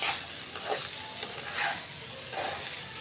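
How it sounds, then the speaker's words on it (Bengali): Rice frying and being stirred in a pan for khichuri: a steady sizzle with repeated scraping stirs sweeping through, close and alone without talk. "এই যে চালটা আমি কষাই নিতেছি ভালোভাবে, ভেজে নিতেছি।"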